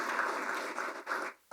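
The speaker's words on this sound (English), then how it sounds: "You should give the central bank a round of applause for that." A conference audience of financial institution representatives at a central bank governor's event claps steadily, a dense wash of applause that breaks off briefly near the end and then resumes.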